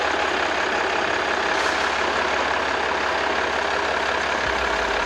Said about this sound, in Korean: 엔진 소리 일정하고 좋습니다